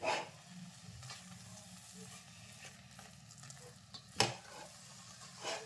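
Ladoo mixture being stirred in a pan until dry, a soft continuous sizzle with intermittent scraping strokes and one sharper knock of the spoon against the pan.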